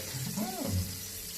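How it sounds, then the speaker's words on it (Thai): Brief splash of water rinsing soap off a face at a sink, a soft wet swish lasting about a second. "เนี่ยล้างออกด้วยน้ำ"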